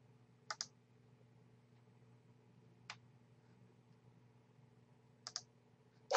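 Computer mouse clicks while working in Anim8or 3D modeling software: a quick double click, a lone click, then another double click and a final louder click, close and sharp over a faint steady hum.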